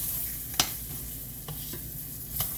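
Onions frying in a roux for smothered liver and onions, a soft steady sizzle broken by a few sharp scrapes and taps of a utensil as they are stirred.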